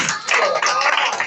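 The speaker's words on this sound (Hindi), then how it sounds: "मैं चाहता हूं कि सब इन महाशय के लिए, इन व्यक्ति के लिए एक बार ताली बजा के आप" Village audience at a program in Banmalipur Sarak, Odisha, clapping together in a loud, close burst of many hands, brief and steady, with a hint of voices.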